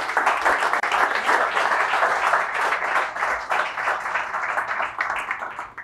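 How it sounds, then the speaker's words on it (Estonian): A crowd in a sports bar applauds guest Reijo at a public recording of a 100th-episode show, sustained dense clapping from many hands that thins slightly toward the end. "Nii et palun aplaus ja Poolsi."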